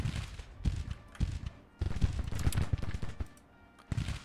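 Civil War battle gunfire in Grand Tactician: The Civil War crackles in irregular bursts of overlapping shots, some volleys closer and louder, with brief lulls between clusters.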